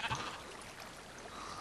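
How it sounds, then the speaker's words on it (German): Sheep bleating in the Minecraft video game, a brief faint bleat near the start over steady background game ambience. "Das Schaf kommt nicht in mein Haus rein."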